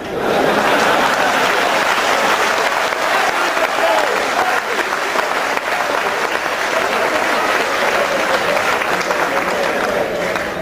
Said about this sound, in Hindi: सिर्फ वे लोग तालियां बजा रहे थे जिनके घर में लगी हुई है।